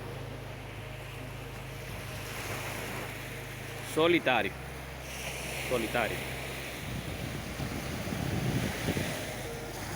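Ocean waves on Playa Dorada beach in Puerto Plata roll in as a steady, soft wash with some wind noise, while a voice speaks briefly over it.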